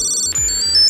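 Tile tracker fitted to a KeySmart PRO rings out with a shrill, high electronic melody of quick chirping tones, close and loud with nothing else heard.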